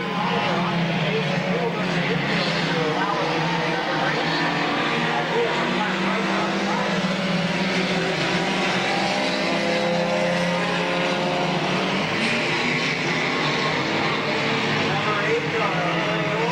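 Stock cars race at Midvale Speedway in a steady, loud, continuous engine roar from the pack, with no gaps and a race announcer talking over the noise throughout.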